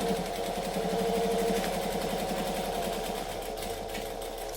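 A sewing machine runs a continuous seam while making a dress with add-ons, a steady mechanical whir and rapid needle chatter, close and moderately loud, slightly easing toward the end, with no talking.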